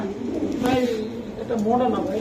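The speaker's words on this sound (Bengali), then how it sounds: "এটা বাটারফ্লাই একটা কবুতর খুবই সুন্দর" Fancy pigeons, including a butterfly-type bird, coo in low rolling calls, repeated a couple of times close by, mixed with someone talking over them.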